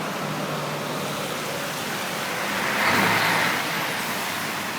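A car passes on a road while someone walks to work, a steady broadband roadway rush that swells briefly as the vehicle goes by close, then settles back into continuous traffic noise.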